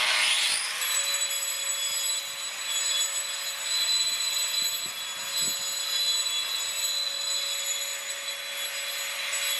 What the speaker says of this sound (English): He's going to grind a little bit